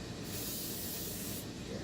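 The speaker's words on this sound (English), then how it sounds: "I just use some pan and just give it a quick spray" Cooking spray hisses in a steady burst lasting over a second, sprayed onto a pork butt being prepared for grilling on a Weber, close and alone with no talk.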